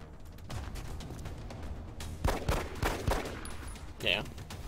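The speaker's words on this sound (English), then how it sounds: "we'll take the pistol shot" Pistol gunfire in the game XCOM Enemy Within, a few sharp shots cracking over game sounds, with voices talking throughout.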